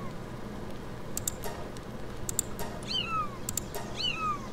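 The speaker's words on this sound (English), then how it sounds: "He sounds like a cat." A creature in the video game Palworld gives a few short cat-like meows, the first at about three seconds and another near four, over quiet game background with brief clicking sounds.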